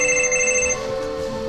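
An electronic telephone ring in Final Fantasy VI sounds loud and steady as a bright, buzzing tone that stops partway through, leaving a lingering hum.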